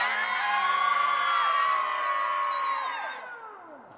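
Live performance audience letting out a loud, prolonged collective scream imitating a dying animal's agony, many voices howling together for about three seconds before trailing off and fading.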